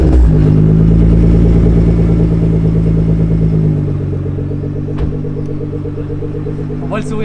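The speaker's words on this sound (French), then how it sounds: "On entend un bon moteur comme ça." A Nissan GT-R engine idles with a loud, steady low rumble that is high at first and then settles lower after a few seconds. The sound continues close by with a faint clatter near the end.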